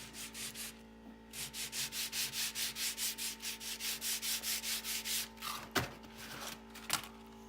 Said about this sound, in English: I'm gonna put it on this sandpaper here and just take the bottom off just a little bit